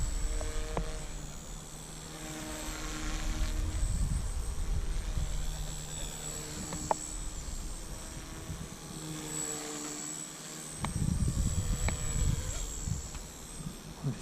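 A Blade 150S remote-controlled helicopter flying in the rain, a steady whining rotor and motor drone that rises and falls in pitch as it manoeuvres, fairly faint, with a brief thump near the end.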